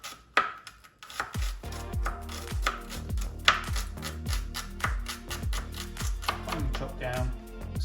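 A knife chops Tropea onions finely on a board in a rapid, even series of crisp taps, close and clear. The rhythm holds steady for several seconds after a brief pause at the start.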